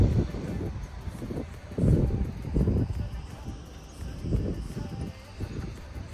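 Cold coastal wind sweeps the sea-cliff lookout at Cape Solander in Kamay Botany Bay National Park, buffeting the microphone in repeated low, rumbling gusts under faint, muffled talk.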